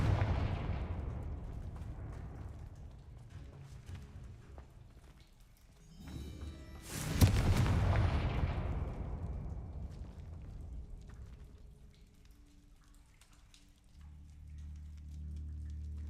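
Confringo blasting spell explosions in the video game Hogwarts Legacy: a booming blast that slowly rumbles away, then a second, bigger crack-and-boom around the middle that fades into a long low tail, with no talk.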